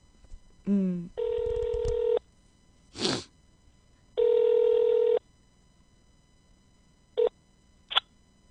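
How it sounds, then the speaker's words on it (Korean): Telephone dialing to place a call, with a short burst of keypad tones followed by two long ringback tones and a couple of brief beeps, fairly clear over a faint background. "그래서 그분들께 한번 전화를 해서요"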